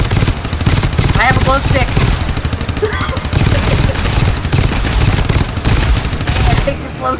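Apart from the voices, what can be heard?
pincer turrets firing in video game GTFO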